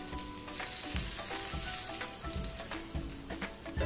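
Hot ghee tadka with green chillies hisses and crackles as dal is poured over it for dhaba-style dal fry, a steady close sizzle with sharper spits and pops throughout, no voices.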